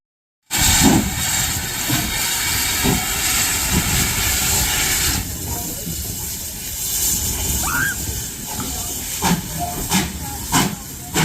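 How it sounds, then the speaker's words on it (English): A tourist steam train near a village lets off a loud, steady hiss of steam at close range, then quieter chuffing and sloshing with a few sharp clanks and a brief squeal toward the end. "they do a steam train for tourists."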